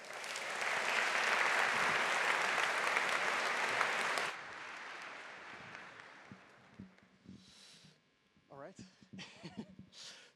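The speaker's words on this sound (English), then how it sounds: "Can I get a big, big, big round of applause for AccuSelect?" Audience at an energy-sector pitch competition breaks into loud, dense applause for about four seconds, then it cuts off abruptly and gives way to quieter room noise and a few scattered voices and sounds.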